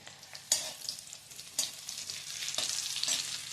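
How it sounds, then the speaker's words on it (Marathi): Cumin seeds and green chillies fry in hot oil for fasting sabudana khichdi, giving a steady close sizzle with a few sharper crackling bursts and light stirring, no voices. "मिरच्यांचा रंग बदलला की ह्यामध्ये आपण घालणार आहोत 1 चमचा जिरे।"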